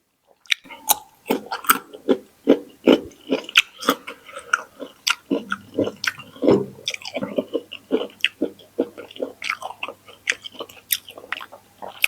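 Someone eats crunchy raw carrot with rice and shrimp-paste chili dip, with salted egg and dried fish nearby, producing close, rhythmic bites and chewing crunches, steady and moist, over a faint low hum.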